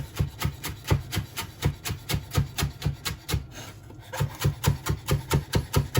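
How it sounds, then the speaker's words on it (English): A knife chops rolled-up leaves on a chopping board, giving rapid, even thuds and rasping strokes about three per second, loud and close, with one brief pause midway. "ball it up in our hand gently onto the board using the heel of the knife, and guillotine down like so, so it shreds it down."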